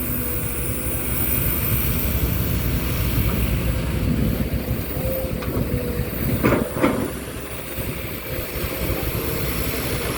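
Kobelco SK200 excavator engine running steadily while opening ground and prying at a big tree stump, its turbo adding a thin high whistle over a continuous low diesel rumble, with a brief sharper burst of machine noise midway.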